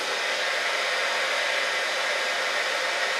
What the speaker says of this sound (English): Try it with a diffuser. Just lay gently the curls in and dry them, but not totally dry